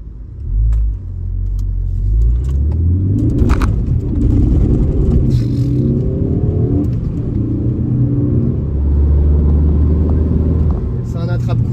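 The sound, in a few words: Ford Focus ST 250 accelerating with wheelspin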